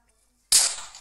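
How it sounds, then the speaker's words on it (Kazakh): Boat exploding in Minecraft: a single sudden loud blast that breaks out of silence halfway through and decays into a fading noisy rumble. "Қайығым жарылып кетті ма?"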